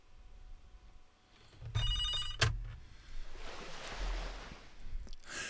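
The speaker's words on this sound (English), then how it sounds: "I got a phone call right in the middle of that" A telephone bell rings in a short burst of repeated rings, fairly loud and close, over a low background hum with no talking.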